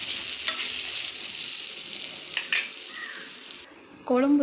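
Raw banana fry sizzling in a pan as it is stirred, with a few utensil scrapes and clinks, close and fairly quiet, ending with a voice coming in.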